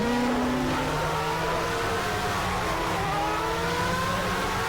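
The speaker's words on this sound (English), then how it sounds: "just to show you how much more quickly that McLaren pulls away, he's already driven off into the sunset" McLaren Formula 1 car in a racing video game, its engine droning loud and steady while the pitch climbs through the gears as it pulls away, with no talking.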